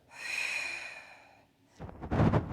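Heavy breathing during a mat Pilates exercise: one long airy exhale, then a brief pause and a sharper, rougher breath close to the microphone, with no talking.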